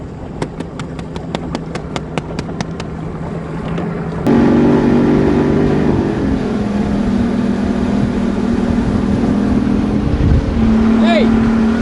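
A motorboat engine on a fishing trip starts up partway through and runs steadily and loud at close range, its pitch shifting as it revs, after a stretch of rhythmic tapping and clicks.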